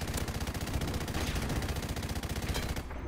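M249 light machine gun in Call of Duty Modern Warfare Remastered, sustained rapid automatic fire in a dense unbroken burst lasting about three seconds, loud and close, then cutting off abruptly.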